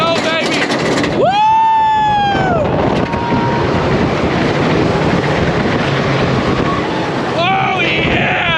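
Roller coaster ride at Busch Gardens Tampa, a loud continuous roar of wheels on track and rushing wind throughout, with riders' high whooping screams rising and falling over it.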